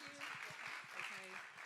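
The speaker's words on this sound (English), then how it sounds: "if we could give Victoria a round of applause" Seminar audience at a property investment mortgage event applauds for the host, a faint steady patter of clapping with a voice talking over it.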